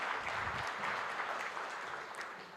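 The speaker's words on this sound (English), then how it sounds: "But Miss Miatta, big applause for her." Audience applause in a conference plenary hall, a steady wash of many hands clapping for the full stretch, fairly even in loudness with no talk over it.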